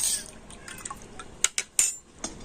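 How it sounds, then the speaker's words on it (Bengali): Vinegar being stirred into water in a small vessel, a few light clinks and splashy liquid sloshes spaced irregularly, close and fairly quiet. "ভিনেগার আর জলটা খুব ভালো করে মিশিয়ে নিচ্ছে"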